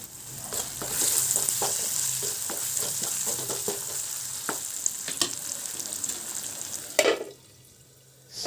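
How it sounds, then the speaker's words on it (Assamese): Cut potatoes fry in oil with salt and turmeric, a continuous close sizzle broken by light stirring clicks and scrapes, dropping away near the end. "আলুখিনি প্ৰথমতে অলপ সময় ভাজি লম আৰু ইয়াত মই নিমখ হালধি লগতে দি দিছো"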